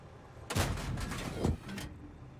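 Two sharp, booming video game gunshots from an M4A1 rifle about a second apart, with a short rattling tail after the second, fairly close and loud.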